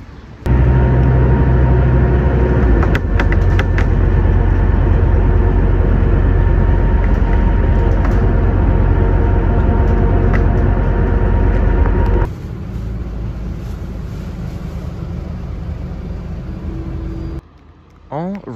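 Loud, steady low rumble of a train idling nearby at a railway station on a cold day, dropping to quieter ambient station noise, with a brief lull near the end.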